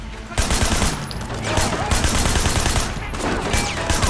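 Gunfire in the Sleeping Dogs action game: loud, dense volleys of shots with brief pauses between bursts, mixed with a voice speaking over the action.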